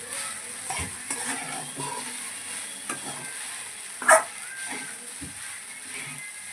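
Sabudana khichdi is stirred in a pan over full flame, with a continuous soft sizzle, repeated spoon scrapes and one sharper clink of utensil on metal partway through.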